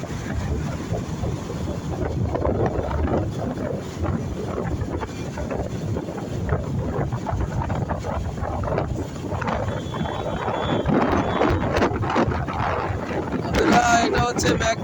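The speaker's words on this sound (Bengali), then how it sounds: "আমি মোটরসাইকেল চালাইতেছি" Heavy wind buffets the microphone while riding a motorcycle through fog toward a river bridge, a loud continuous roaring rush with engine rumble buried underneath, and a voice talks intermittently.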